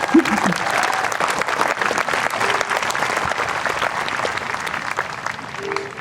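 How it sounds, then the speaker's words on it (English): Large crowd applauding on an outdoor field at a 2024 high school graduation ceremony, continuous and even clapping with some cheering voices mixed in, sustained for about six seconds. "Yes, please clap."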